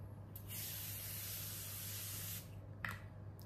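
A short steady hiss of mineral face mist spraying from a can, one continuous burst lasting a couple of seconds, close and fairly quiet with no talking.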